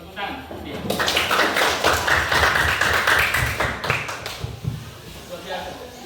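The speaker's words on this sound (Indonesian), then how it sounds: "Mantap, sebut, tepuk tangan." Students in an Islamic boarding-school Qur'an and Hadith class break into a burst of hand clapping lasting a few seconds, dense and close, mixed with voices before it fades out.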